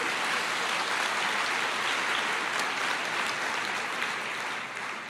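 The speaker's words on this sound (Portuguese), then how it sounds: "Pode aplaudir ao Senhor." A church congregation claps for the Lord during a sermon, a thick, sustained wash of many hands clapping at a constant level that eases off slightly at the very end.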